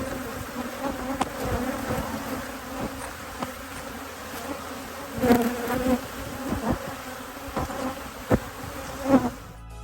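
Honey bees swarming over honey extraction equipment and wax cappings, a dense continuous buzzing of many insects close by, with occasional louder passes near the microphone and no talk.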